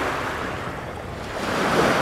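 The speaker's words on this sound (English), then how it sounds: "you can hear the waves coming in from that guy passing" Wake waves from a large passing ship wash in on a lake-like waterway, a continuous rushing surge that swells toward the end, mixed with wind noise on the microphone.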